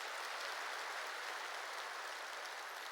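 A church congregation at a New Year's Eve service claps in a dense, steady wash of applause, moderately loud and continuous, with no voice over it.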